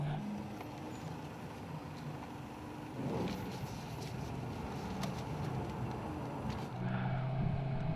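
BMW M3 E90/E92 at a driving school, accelerating out of an understeering corner: a steady engine roar with tyre and wind noise, constant and fairly loud throughout, with no voices over it.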